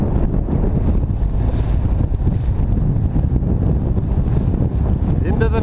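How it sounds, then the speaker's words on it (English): A boat motoring over open water toward the far northern reaches of a lake, engine drone and rushing water close and loud throughout, with heavy wind buffeting the microphone. "we're gonna motor up into the far reaches"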